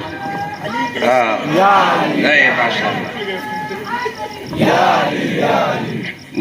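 A crowd at a religious gathering of Mufti Mazhar Qadri Chishti loudly chanting slogans in unison, two surging bursts of massed voices with a quieter gap between them.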